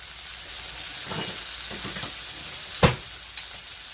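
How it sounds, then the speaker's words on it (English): Chicken sizzling steadily in a frying pan as it browns, a constant close hiss with a few louder pops and spatters near the end. "you can still hear the sizzle in the background"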